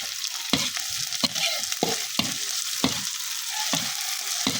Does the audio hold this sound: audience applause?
no